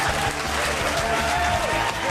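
Studio audience at an Inside Penguins Hockey broadcast applauding, a dense continuous wash of clapping at steady volume throughout the short stretch.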